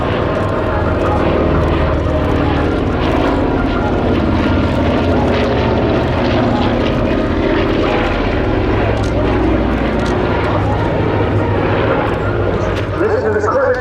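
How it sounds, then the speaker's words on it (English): Breitling Super Constellation propeller airliner passing at an airshow, its four Curtiss-Wright R3350 18-cylinder turbo-compound radial engines giving a loud, continuous throbbing drone throughout, with a commentator talking over it. "there, ladies and gentlemen, is the Breitling Super Constellation."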